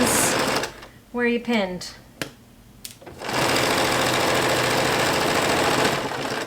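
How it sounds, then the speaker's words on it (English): Domestic sewing machine running a medium-width stitch down the edge of a flat sheet, a steady loud whirring hum that starts, pauses briefly while a voice speaks, then runs continuously to the end. "just sew a medium stitch width all the way down where you"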